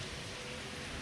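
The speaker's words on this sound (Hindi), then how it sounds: "बारिश हो चुकी है स्टार्ट" Heavy rain in Munnar makes a dense, constant hiss with no breaks, filling a short moment with no talking.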